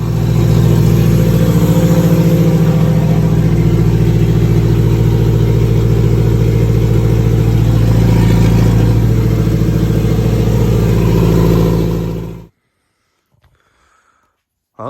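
A car engine idles loudly and steadily with a low rumble for about twelve seconds, then cuts off abruptly into near silence.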